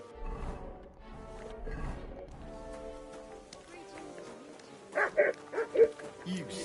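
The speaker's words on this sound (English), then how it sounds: "You silly dog." A dog in the medieval video game Kingdom Come: Deliverance 2 gives a few short, sharp barks near the end, following a stretch of game music and voices.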